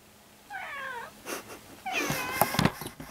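A pet cat meows and screams in a few short, loud, wavering cries with brief gaps between them, fairly close indoors, with no talking.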